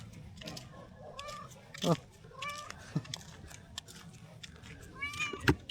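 A kitten meows repeatedly in short, rising cries, fairly close, over a steady background hum with a person talking nearby.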